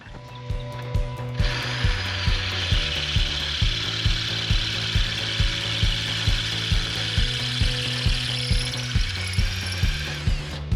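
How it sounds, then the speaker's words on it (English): A power drill whines steadily while a rhythmic mechanical clicking repeats about twice per second, close and continuous. It is drilling out a bolt during a wheel bearing and brake rotor change on a Land Rover LR3 (Discovery 3). "let's see if we can drill this off and see how that goes"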